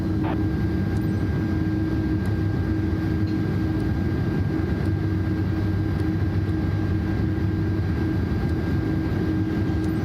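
An airplane in Microsoft Flight Simulator 2024 on its takeoff run from runway 09, a loud, steady engine roar with a constant droning hum throughout, no one speaking over it.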